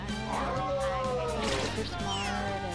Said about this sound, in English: This is a good cat. Super smart